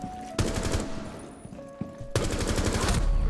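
Gunfire in an online shooter game, sharp bursts of shots at the start and a heavier barrage in the final second, with a quieter stretch and a single crack between them.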